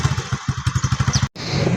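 Motorcycle engine puttering with a steady rapid pulsing beat, loud and close while riding to a market, with a brief dropout before the engine noise resumes.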